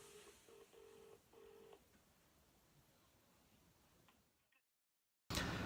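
A telephone keypad plays a rapid series of short dialing beeps, about six tones in quick succession, faint over a low background hiss before going silent and then a burst of noise.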